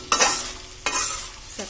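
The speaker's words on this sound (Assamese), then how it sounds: "অকণমান ভাজিব লাগিব যাতে চাইডেদি তেলটো ওলাই যায়" Dry fish chutney frying in oil in a pan, with three short bursts of scraping and stirring that each trail off into a soft sizzle, close up with no voices.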